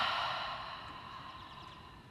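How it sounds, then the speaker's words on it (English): A long, slow exhale through the mouth during yoga breathing, soft and close, fading gradually as the breath empties, with no talking. "Exhale through the mouth."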